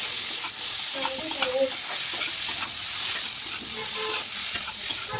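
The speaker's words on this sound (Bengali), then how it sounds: "চারকোল করে টমেটোটাও দিয়ে দিলাম, দিয়ে হালকা নাড়াচাড়া দিয়ে নিলাম।" Tomato sizzles in a frying pan while being stirred, a soft steady hiss with light scraping and clinking of the spoon against the pan.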